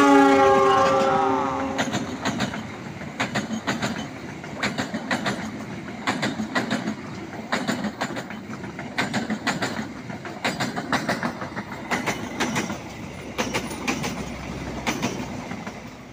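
The Argo Wilis passenger train speeds past at Cimencrang near Gedebage, Bandung, with a brief horn blast at the start followed by loud, rapid, steady clickety-clack of wheels over rail joints throughout.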